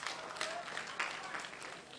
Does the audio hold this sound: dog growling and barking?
no